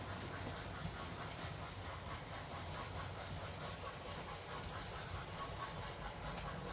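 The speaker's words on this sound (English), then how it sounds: "We'll see some trains running around the new layout" Model trains run around a Lionel tube track layout with two loops, giving a steady, continuous rolling rumble and faint clatter that hold at an even level throughout, with no talking.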